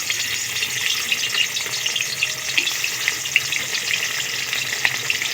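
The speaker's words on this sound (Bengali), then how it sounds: "আজকে সাদা তেলে মাছগুলো ভেজে নেব।" Pieces of rohu fish fry steadily in hot white oil, giving a continuous loud crackling sizzle with small pops throughout and no voices.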